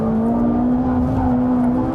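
A Ferrari 458 Italia sports car on a race track holds a steady, loud engine note at constant pitch, a sustained drone without gear changes.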